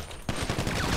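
A short burst of rapid gunfire in the video game GTA V, loud rattling shots starting abruptly and repeating quickly.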